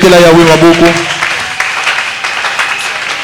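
Church congregation clapping and cheering in praise, a loud burst of applause with raised voices and singing tones at first, then thinning into scattered clapping and murmuring.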